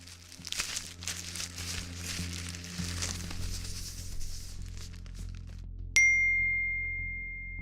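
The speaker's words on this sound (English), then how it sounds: "The sound was clear. An airdrop notification." An AirDrop notification chime rings out as a single bright, clear tone that fades slowly, coming after several seconds of rustling and crinkling handling noise.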